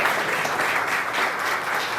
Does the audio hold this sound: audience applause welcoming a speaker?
yes